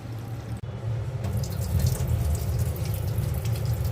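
Running water from a tap while something is rinsed in a home kitchen during cooking, a continuous splashing flow with a brief break near the start, moderately loud and steady.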